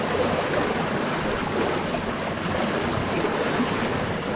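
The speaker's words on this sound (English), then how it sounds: "So she's sinking slowly, the water's coming out." Water rushes out of a canal lock as a boat sinks slowly in the chamber, a steady, broad churning roar that stays close and constant throughout, with no voices.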